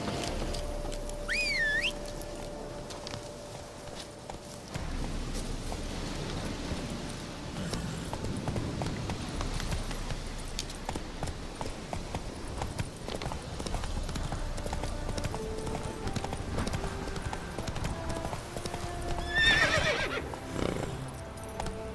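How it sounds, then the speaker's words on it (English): A horse gallops with steady, continuous clip-clop hooves through The Witcher 3 game world, with a couple of clear neighs rising over the rhythmic hoofbeats. "Not so fast, Roach. Giddy up."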